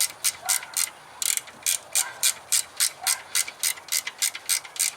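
A hand ratchet clicks in quick, steady bursts while tightening the oil pressure sensor bolts on a 2013 Dodge Charger with a 5.7 Hemi, crisp and close with no talking.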